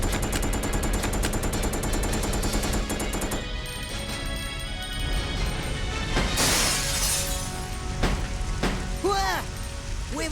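Gunfire in the video game Resident Evil Code: Veronica X, opening with a rapid run of repeated shots, then cracks, shattering and scattered impacts with some whooshing sweeps.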